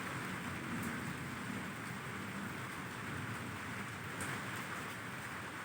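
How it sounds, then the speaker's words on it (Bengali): Monsoon-season rain falls as a soft, steady, even hiss that continues unbroken and fairly faint, with no voices. "দেখো, আষাঢ় শ্রাবণের মতো বৃষ্টি, টিপ টিপ টিপ টিপ করে"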